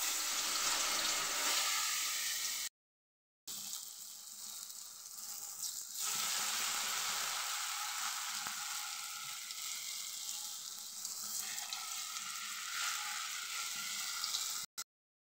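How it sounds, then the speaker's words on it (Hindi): Eggplant slices coated in gram-flour batter sizzle steadily in hot oil as pakoras fry, a continuous hissing crackle with a short gap early on and no talking. "इसमें बैंगन को डाल देते हैं। अब ऐसे ही डाल देंगे तेल में।"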